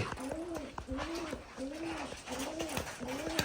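Pigeons at a Bangladeshi pigeon sale coo in a steady repeating rhythm, each deep rolling call following the last at regular intervals, close and clear over a busy background murmur.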